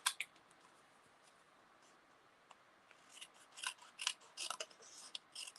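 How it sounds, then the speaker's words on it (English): Scissors snip through card paper during card making, a run of crisp close cuts that grows denser and louder toward the end, with no talk. "so I'm just going to trim this down like that."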